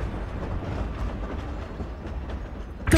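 A train rolls past in the Hogwarts Legacy video game, a steady, loud rumble with rattling clatter that holds throughout and ends in a brief sharp burst.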